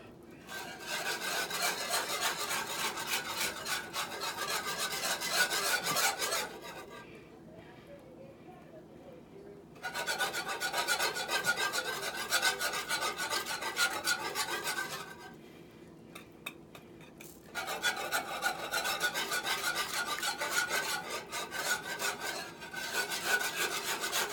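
A whisk scrapes around a pot as flour is worked into an equal amount of hot oil to make a gumbo roux. Three long, steady bursts of rasping stir up close, separated by short quiet pauses.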